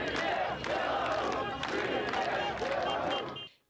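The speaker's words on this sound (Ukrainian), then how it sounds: "мітингарі вигукують гасла" Protesters shouting slogans in unison at night on a street in Minsk, a dense crowd of voices rising in repeated waves, loud and continuous before cutting off abruptly.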